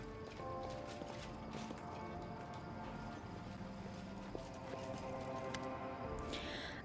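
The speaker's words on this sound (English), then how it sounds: "Business-like chatter, the lazy neighs of ponies, the clatter of instruments, and rising above everything else, a rather expressive voice." Horses' hooves clip-clop in a steady rhythm with occasional lazy pony neighs and clattering in a busy camp scene from the video game Pathfinder: Wrath of the Righteous, moderately quiet.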